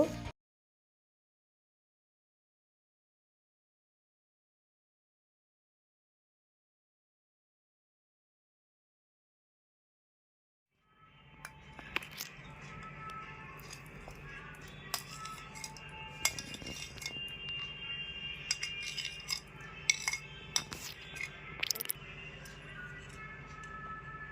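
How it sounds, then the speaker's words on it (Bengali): A metal spoon scrapes the soft roasted pulp off a green mango seed, with close clinking and scraping that starts after a long silence, irregular and growing busier toward the end. "আমি একটা চামচ চামচের সাহায্যেই পালটাকে বের করে নিচ্ছি আঁটি থেকে"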